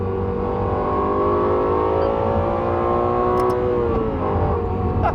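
A Lexus LFA engine revs and pulls hard under acceleration, its rising tones climbing steadily and loud throughout, close up with no talking.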